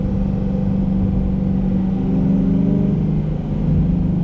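Chevrolet C8 Corvette V8 fitted with a Borla ATAK exhaust, revving with a loud, steady deep rumble that swells and eases slightly as the throttle is worked, close-up and continuous with no talking.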